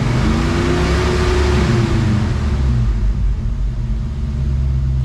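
A 1966 Ford Mustang with Sniper EFI is revved up to about 4,000 rpm and then settles back to idle. A loud, close, continuous engine rumble swells slightly before easing into a steady, throaty idle.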